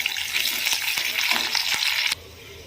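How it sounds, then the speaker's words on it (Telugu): Mustard seeds, cumin, curry leaves and dried chillies fry in hot oil for a tempering, giving a loud, close sizzle with a few stirring clicks before it drops away suddenly near the end. "ఇందులోకి ఈ పోపులోకి కొంచెం ఆవాలు, జీలకర్ర, కరివేపాకు, ఒక 2 వరకు ఎండుమిర్చి తీసుకున్నాను."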